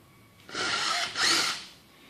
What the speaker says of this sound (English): We just finished drilling a hole through the eave of the home.